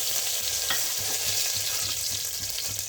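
Curry leaves dropped into hot coconut oil in a pan, with mustard seeds already popped, sizzling in a steady dense crackle throughout, close and fairly loud with no voices.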